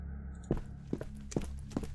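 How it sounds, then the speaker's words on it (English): Heavy footsteps of an officer in a Gameboy-style video game text adventure, four evenly spaced thuds about half a second apart, fairly close and alone over a low steady background hum. "The sound of the officer's thudding footsteps draw near to Roger."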